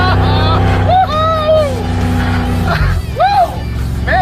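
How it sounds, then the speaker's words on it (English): An engine roars in a burnout from a worn-out beater car with a badly damaged engine, a loud sustained rasp with rising whines of revving and tire squeal, close and continuous, with a dip near the middle. "it does good burnouts for something with absolutely no engine left"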